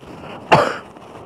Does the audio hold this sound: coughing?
yes